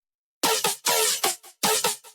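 Synth tone with an LFO struggling to change speed because the notes are not restarted, heard as a run of loud, bright, buzzy bursts with uneven pulsing and short gaps, alone without talk.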